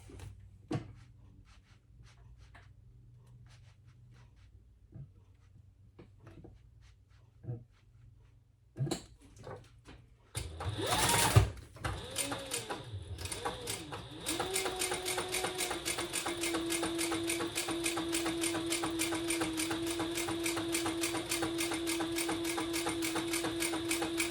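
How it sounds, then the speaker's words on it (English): Domestic sewing machine top stitching a tote bag, starting after a few quiet handling clicks and bumps, then running as a steady fast mechanical whir with a rapid needle patter that continues to the end. "And another row of top stitching."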